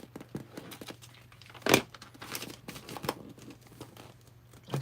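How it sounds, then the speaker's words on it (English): Tape being torn off a roll to tape something down, heard as close crinkling and rustling with one sharp tearing rip in the middle and a few softer handling sounds around it. "I like to tape this part down"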